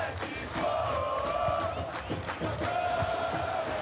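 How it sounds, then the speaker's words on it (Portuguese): A stadium crowd at the Athletico Paranaense vs Maringá semifinal of the Campeonato Paranaense roars and chants for a player, a sustained mass of voices with rising and falling cheers. "Palmas para ele."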